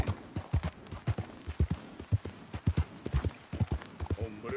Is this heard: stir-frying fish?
no